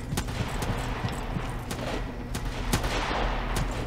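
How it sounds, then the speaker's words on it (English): Rapid gunfire aimed at the player in a farming survival video game, a steady barrage of sharp cracks and bursts over a dense, loud background, with several distinct louder shots standing out. "Are they shooting at me? Yes, they are!"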